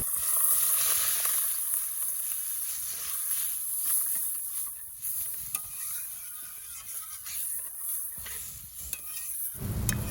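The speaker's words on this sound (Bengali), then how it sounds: "এবার দিয়ে দিচ্ছি নারকেলের দুধটা।" Masala sizzles in a pan as coconut milk is stirred in for a Bengali prawn malai curry, with a steady close hiss and a few scraping stirs, and no voices.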